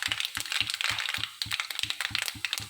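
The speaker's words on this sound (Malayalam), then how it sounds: "ഇങ്ങനെ ചീഞ്ചട്ടി ചൂടാക്കി വെളിച്ചെണ്ണ ഒഴിച്ചു കടുക് കൂട്ടിക്കൊണ്ടിരിക്കുക കേട്ടോ" Mustard seeds crackle and pop in hot coconut oil in a chatti, a steady run of sharp close pops over a constant sizzling hiss, with no talking.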